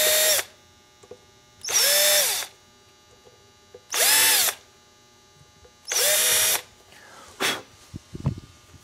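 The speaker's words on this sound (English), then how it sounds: "I've got it set to exactly the depth that I want to pilot. So I'm going to put that in the middle of each one of these holes." A power drill with a stop-collar bit bores four depth-limited pilot holes in wood for machine tuner screws, each a loud burst of about a second separated by short pauses, followed by a few softer clicks and handling knocks.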